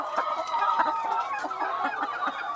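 Laying hens raised to about 131 days old cluck in short, irregular bursts at moderate volume, with several birds overlapping close by.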